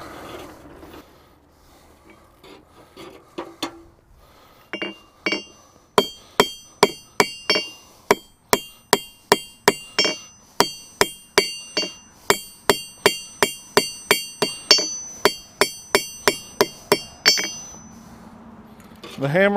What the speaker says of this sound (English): The hammer and the anvil